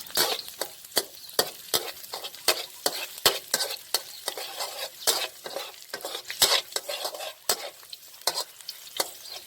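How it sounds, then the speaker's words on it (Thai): Crushed garlic cloves frying in vegetable oil in a pan for a cauliflower and minced pork stir-fry, a soft steady sizzle punctuated by frequent sharp clicks of a metal spatula, close up with no talk. "ใส่น้ำมันพืช จากนั้นก็ นำกระเทียม กรีบนะครับ ที่เราทุบเมื่อสักครู่นะครับ ลงมาเจียวให้หอมก่อนครับ"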